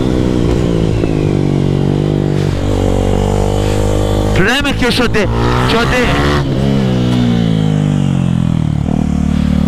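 A motorcycle engine idles, then revs sharply several times in rising and falling bursts, loud and close, with someone talking over it.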